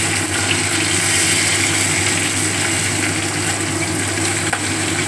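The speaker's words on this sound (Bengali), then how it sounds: "এই মাছ ভাজা হয়ে গেছে।" Fish frying in a pan for a spicy fish curry gives a continuous, even hiss of hot oil, loud and close, with no pauses and no talk.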